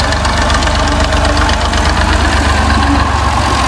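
A tractor engine idles close by with a rough, knocking diesel chug that stays steady throughout, with no talk over it.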